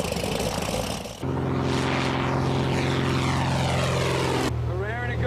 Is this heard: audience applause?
no